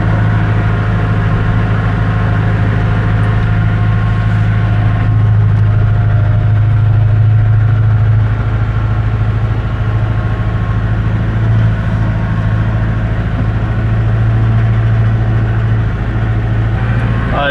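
Tractor engine idling and running steadily throughout while hauling a load of manure during a snowstorm, a constant low heavy rumble heard from inside the warm cab with no talk.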